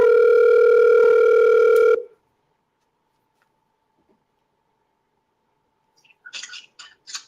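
A call is placed over the phone, bringing a loud, steady telephone tone for about two seconds that cuts off into silence, followed near the end by a few brief bursts of voice.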